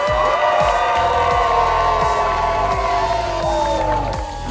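Crowd at a Fusion 360 design slam event cheering and whooping in a loud, sustained roar, with a prolonged electronic tone sweeping underneath and a steady rhythmic thumping beat throughout.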